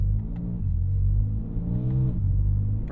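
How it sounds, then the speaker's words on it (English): A low, steady exhaust drone from a moving BMW G80 M3 Competition, heavy and resonant, recorded binaurally, rising slightly in pitch as the engine works, with no talking. "this exhaust does have some drone"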